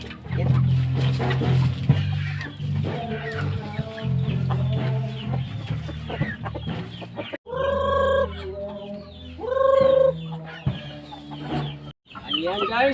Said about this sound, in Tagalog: Talagang gutom talaga yung manok.